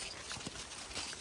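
Horses walking on a ride, with a few soft hoof clip-clops spaced irregularly over a steady noisy background, faint and without talk.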